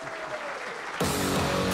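Audience applause for an award winner at the ANEEL Quality Award 2021 ceremony, a steady wash of clapping that swells louder partway through and continues without talk.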